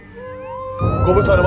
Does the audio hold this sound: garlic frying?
no